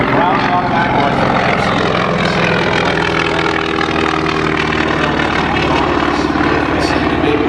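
A World War II P-51 Mustang propeller aircraft flying by, a loud continuous droning engine roar with rich harmonic buzz, holding steady throughout, with a voice speaking over it.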